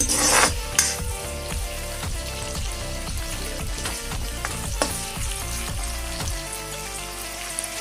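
Onions fry in oil in a pan for a spicy dry chicken dish, giving a steady close sizzle broken by scraping, clattering stirring strokes throughout.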